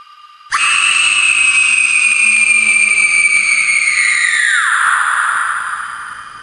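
A girl lets out one long, shrill scream that holds steady, then drops in pitch and fades at the end. It is loud and close, with no talking.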